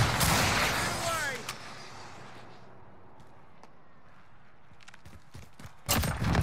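Gunshots in a video game, a dense burst of firing up front that fades, then sparse isolated shots and a closing loud burst, with voices talking over parts of it.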